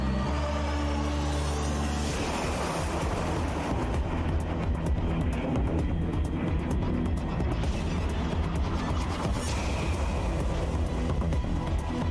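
An aircraft engine in a flight simulator game drones steadily, then swells into a louder, rising roar around two seconds in and holds it as the takeoff run continues, alone with no talking.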